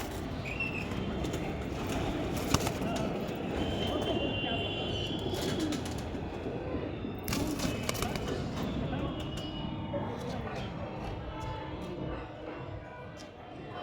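Pigeons cooing in a loft, soft repeated coos under someone talking, with faint rustling and background noise throughout.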